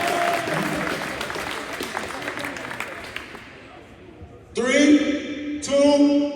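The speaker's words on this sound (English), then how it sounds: "Clap it up." Applause from a school crowd at a motivational assembly swells at the start and then dies away, with a voice cutting in twice near the end.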